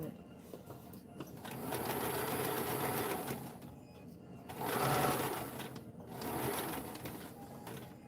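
A sewing machine stitches a padded dress form cover in steady bursts of mechanical running, pausing between seams with quieter handling noise and occasional talk nearby.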